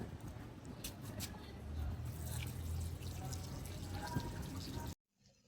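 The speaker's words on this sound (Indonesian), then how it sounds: "Ya udah deh aku cuci tangan supaya aku nggak sakit." Hands are washed under a running tap, with a steady, close hiss of flowing water and splashing for about five seconds before it cuts off.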